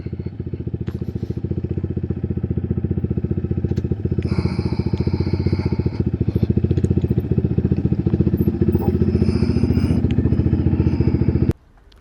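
A Chinese Kawasaki clone BD250-5 motorcycle on a quick ride, its engine a steady close buzzing drone that pulses rapidly and roars louder midway, continuing without speech until it cuts off abruptly near the end.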